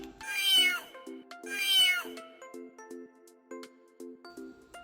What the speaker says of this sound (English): the sound of cat